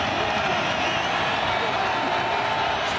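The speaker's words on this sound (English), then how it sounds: "Crowd comes to its feet." Stadium crowd at a BYU vs New Mexico State college football game roaring steadily as fans rise to their feet, a dense continuous wash of cheering with an announcer's voice over it.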